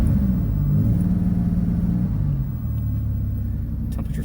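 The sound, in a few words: 3.8 liter V6 car engine running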